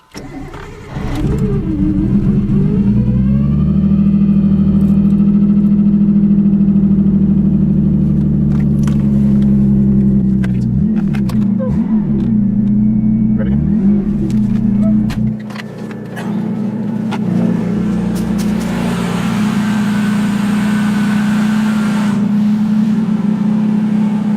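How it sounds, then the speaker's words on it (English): A Nissan R32 Skyline drift car with fresh intercooler piping cranks and starts, then settles into a loud, steady idle with a few blips of revving and clicks nearby, the idle changing tone near the end. "we're gonna see if the Skyline starts after putting all the piping on and tightening it all down"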